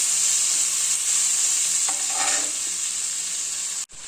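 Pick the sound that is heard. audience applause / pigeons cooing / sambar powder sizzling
sambar powder sizzling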